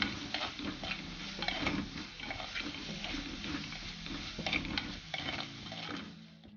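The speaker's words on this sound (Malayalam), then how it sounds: "പിന്നെ പച്ചമുളക്, അതെല്ലാം കൂടെ ചേർത്തിട്ട് ഒന്നുകൂടെ നന്നായിട്ട് വഴറ്റണം." Curry leaves and green chillies being sautéed for crab pepper masala, a soft, low-level sizzle with irregular scraping and stirring ticks from a utensil against the pan, no voices.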